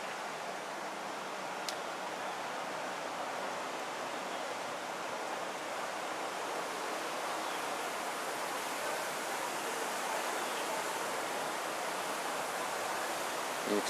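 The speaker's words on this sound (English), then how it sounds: "And you can see the water just washing on by." Hurricane floodwater washing past a flooded street, a steady, even rushing hiss like a stream, continuous and moderately distant with no voices over it.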